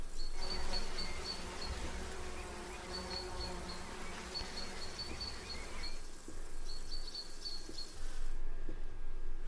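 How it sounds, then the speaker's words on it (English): Steady buzzing of bees fills the background while small birds chirp in short repeated bursts, a continuous summery ambience. "You hear the bees and the birds."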